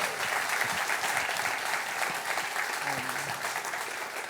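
Sustained applause from an audience at a fashion festival event, a steady wash of clapping held at an even level throughout, with a faint voice briefly underneath.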